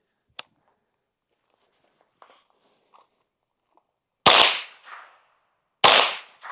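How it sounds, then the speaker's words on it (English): Two loud, sharp reports from an unsilenced Ruger 10/22 rifle fired with 25-round magazines, spaced about a second and a half apart after a few faint handling clicks and one small tap. "I got the 10/22. I'm gonna take some shots with that"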